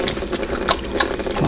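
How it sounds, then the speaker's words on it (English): A kitchen tap runs steadily while hands are rinsed of sticky rye bread dough, with a close, continuous splashing and small irregular spatters. "I'm going to wash my hands real quick before I do that."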